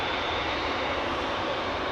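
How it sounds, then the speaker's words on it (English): A Cathay Pacific Cargo Boeing 747-8 freighter bound for Frankfurt at Amsterdam Schiphol gives off a loud, unbroken broadband jet engine roar that holds steady and close throughout. "What I am seeing here is a huge 747 that is going to fly to Frankfurt"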